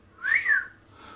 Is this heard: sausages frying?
no